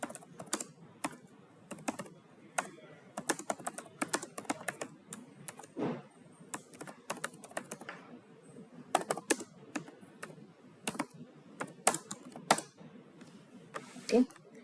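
Java code being typed on a computer keyboard, quick irregular clicking keystrokes in bursts with short pauses, close and fairly quiet.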